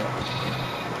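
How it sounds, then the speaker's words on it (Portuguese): Sheep bleating in the Minecraft video game, a continuous, steady, droning bleat that fills the whole moment with no talking over it. "Ovelha."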